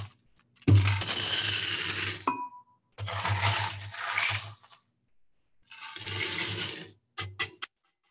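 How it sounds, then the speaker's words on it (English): Gravel poured into a pre-cleaned glass container, three close crunchy rattling pours of about one to two seconds each with short gaps, then a couple of brief final trickles. "And you want to add about an inch of gravel to the bottom of that."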